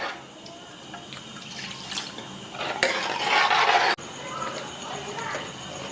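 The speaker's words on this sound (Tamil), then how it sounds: "இந்த தண்ணி நமக்கு போதுங்கிற அளவுக்கு ஊற்றிக்கிங்க" Water pours into a pot of sambar on a home kitchen stove, a steady splashing stream that swells in the middle and then settles, heard up close.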